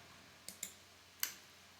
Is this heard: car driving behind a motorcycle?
no